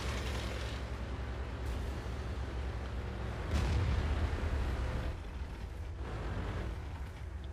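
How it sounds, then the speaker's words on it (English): Artillery fire in a tank video game booms as a dull, heavy rumble under a constant noisy engine and battle bed, with a stronger low thud midway, fairly muffled and without speech. "Artillery took a shot at me,"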